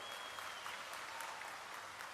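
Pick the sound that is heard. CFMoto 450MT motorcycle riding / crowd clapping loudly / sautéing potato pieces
crowd clapping loudly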